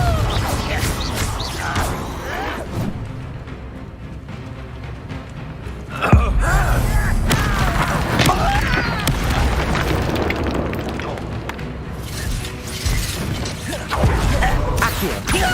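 Explosive Confringo spell blasts in the Hogwarts Legacy video game, a loud booming burst near the six-second mark amid continuous dense game combat noise and rumbling effects, with further impacts later.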